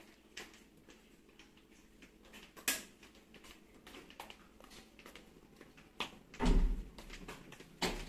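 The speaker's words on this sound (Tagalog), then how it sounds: "Bilis, Riz, para may sarado yung pinto." A door is shut inside a transient house in Baguio, with a few soft knocks and clicks, then a heavier thud as it closes, amid quiet indoor room noise.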